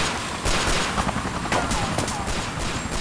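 Gunfire rattles in a firefight in the video game Yakuza 4, with rapid, loud bursts of shots and sharp cracks repeating over about three seconds amid busy background noise.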